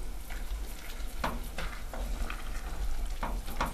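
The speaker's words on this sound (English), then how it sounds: "So you kind of just fold the vegetables in with the sausage and the sauce." Vegetables are folded into sausage and sauce in a hot pan. A steady sizzle runs throughout, with a few soft scraping stirs of a utensil close by and no talking.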